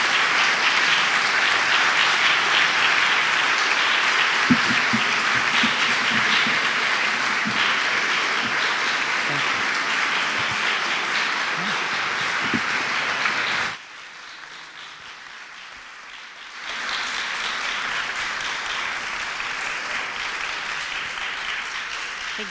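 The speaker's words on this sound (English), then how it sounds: "I think if I didn't stop, the applause would go on and on" A conference audience applauds after a speech by the Prime Minister of Armenia at Palazzo Clerici, with dense, sustained clapping that drops sharply partway through, then picks up again at a lower level.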